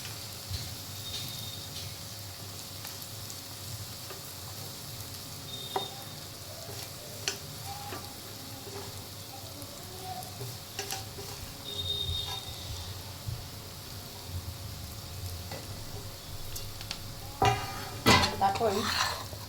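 Besan flour being stirred and roasted in a pan for Maharashtrian zunka, with soft scraping of a spoon against the metal, occasional clinks and a faint sizzle running steadily throughout.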